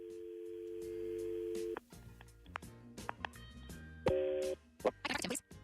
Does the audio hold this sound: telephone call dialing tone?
yes